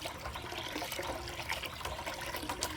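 Water being stirred and sloshed into settled arrowroot starch, a soft continuous swishing and trickling, faint and close, with no talking.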